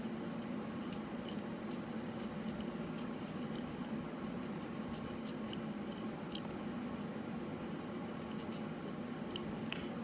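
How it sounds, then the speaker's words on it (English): A carving knife cutting deep into a radish to hollow out its center, giving a faint, continuous crisp squish and scrape with occasional small clicks, close and quiet. "This time I'm gonna trim it deep to create a hole in the center of my carving."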